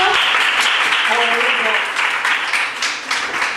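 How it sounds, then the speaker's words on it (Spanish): Sustained applause from an audience welcoming a storyteller at a secondary school in Algeciras, dense clapping that fades slightly toward the end, with voices calling out over it. "Un aplauso."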